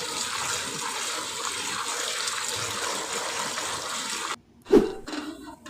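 Steady running water pours for about four seconds as peas and chopped cauliflower are rinsed, then stops, followed by a brief splash and clatter.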